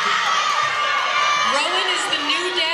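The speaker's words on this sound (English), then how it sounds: "we have a crowd of people over here yelling" A crowd at an Anthro New England 2018 dance competition yells and cheers in a bright, sustained clamour of many voices. Individual shouts and whoops rise out of the din from start to finish.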